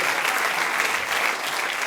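An audience at a Sicilian cabaret show applauding, a dense, steady wash of clapping filling the room for a couple of seconds, close and loud with no voices above it.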